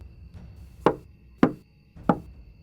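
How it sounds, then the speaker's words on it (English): Three slow, deliberate knocks at 2:47 a.m., heard from bed, land evenly spaced and sharp against a near-silent background. "I heard the knocks."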